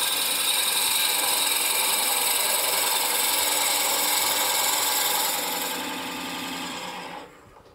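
Wood drilling on a turning lathe while making a captive wedding ring goblet: a loud, steady whirring and rasping grind that holds constant, then eases and winds down near the end.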